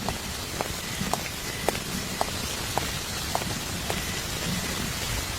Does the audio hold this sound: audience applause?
no